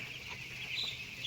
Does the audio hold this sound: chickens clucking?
yes